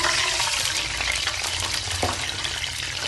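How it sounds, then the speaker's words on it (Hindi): Water is poured into a pot of cardamom pods crackling in hot fat, a loud continuous hissing sizzle and rush with bubbling under it, no talking. "और ये 1 पाव पानी है जो मैं इसमें डाल रही हूँ"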